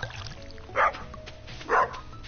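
A dog barking in the farming video game Stardew Valley, two short, evenly spaced barks a second apart, clear and moderately loud over a quiet game backdrop.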